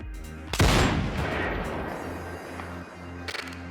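A single loud sniper rifle shot from the Ghosts of Tabor VR game cracks out near the start, then rolls into a long, booming echo that fades slowly, with small mechanical clicks near the end.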